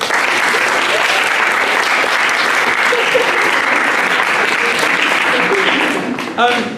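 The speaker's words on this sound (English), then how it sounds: "So a big round of applause for Thomas." An audience applauds Thomas at a 2018 certificate presentation, a dense, steady wash of many hands clapping up close that holds for several seconds before thinning out at the end.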